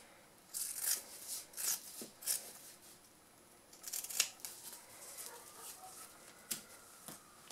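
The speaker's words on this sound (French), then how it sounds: "On va doucement pour pas découper trop." Scissors cutting fabric for a sewn multi-purpose pouch, a series of quiet, crisp snips spaced irregularly in a hushed room, with no talking.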